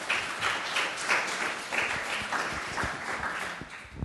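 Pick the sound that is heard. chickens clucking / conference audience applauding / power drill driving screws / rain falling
conference audience applauding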